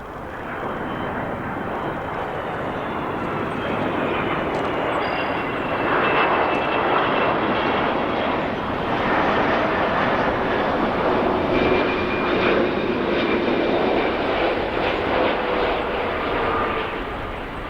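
United Boeing 777-222 airliner at Chicago O'Hare airport, a loud sustained engine roar with broad rushing noise that swells slightly midway and holds steady, nearby and continuous, with no voices heard.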